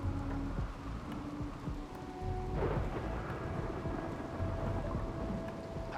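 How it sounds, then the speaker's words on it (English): Rain and rolling thunder in the RimWorld video game, a steady dense patter of rainfall with a low thunder rumble swelling midway, continuous and fairly loud, no talking. "It's raining."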